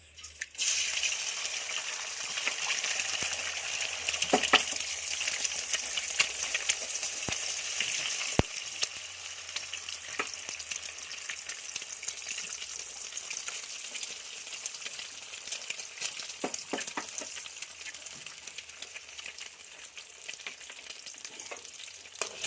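Four eggs frying in oil in a pan for Kolkata-style egg chow mein make a steady, moderately loud sizzle with a few sharp clicks and stirring sounds, no voices.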